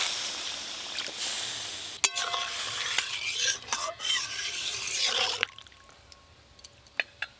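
Water poured into a pan of cooked spice paste for a green-mango fish curry, a loud crackling sizzle with stirring scrapes that dies down to quieter bubbling and a few clinks.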